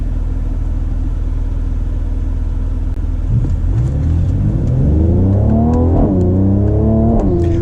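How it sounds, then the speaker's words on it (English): A sports car engine with a louder exhaust revs up loudly and close by, climbing in pitch through several rising sweeps after a steady idle rumble; no clear pops stand out. "that gives us a louder exhaust, that gives us the pops and bangs"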